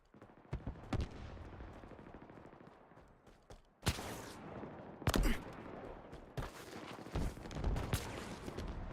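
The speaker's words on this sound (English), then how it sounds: "Not much recoil going on when the Marines are shooting their guns." Gunfire from Marines in the video game Halo Infinite: scattered rifle bursts and sharp single shots at varying distances, some loud and close, others faint, in an irregular rhythm.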